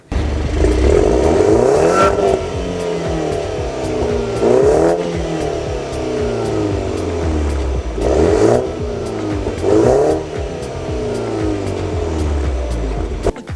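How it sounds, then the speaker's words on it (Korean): A 2018 BMW 530i M Sport's tuned exhaust roars loudly through several sharp revs, the engine climbing and dropping in pitch between bursts, close by. "5시리 차량의 멋스러운 배기음 소리 듣고 오셨는데요"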